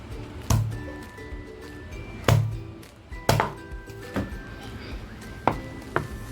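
A knife cuts onion into pieces for a traditional kala mutton masala, with sharp, crisp chops landing on a board at an uneven pace, about six in all, close and moderately loud.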